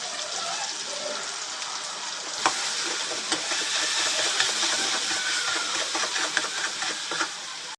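Chopped tomatoes, garlic, green chilli, turmeric and spices fry in a pan. The sizzle swells sharply a few seconds in as food hits the oil, then a loud steady hiss follows with occasional stirring clicks.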